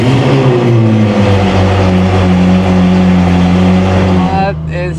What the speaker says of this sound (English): For now, cold start.